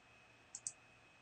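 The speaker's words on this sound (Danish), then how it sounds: "klikker på den linje her" Two crisp computer mouse clicks in quick succession, close and fairly faint, over a quiet room hiss while working in a building-modelling program.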